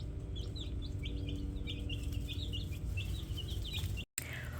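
Young backyard chickens chirp and peep repeatedly in a rapid, high-pitched chorus over a steady background hum, the calls continuing close by with no speech.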